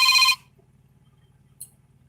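A phone rings from an unknown number, with a short loud electronic ringtone burst at the start. A faint low hum and a brief high blip follow.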